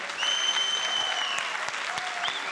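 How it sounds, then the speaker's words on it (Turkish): A studio audience on a Turkish televised singing competition breaks into sustained applause, broad and even throughout, with faint sustained tones from a stage instrument or feedback audible above the clapping. "Alkışlarımızı gönderelim ruhuna."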